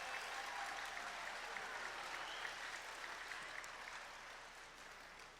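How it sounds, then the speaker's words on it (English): Applause from a school winter concert audience for junior high and middle school band kids on stage, a steady, dense wash of many hands clapping that stays loud throughout and thins slightly toward the end. "can I get a round of applause for these kids on stage?"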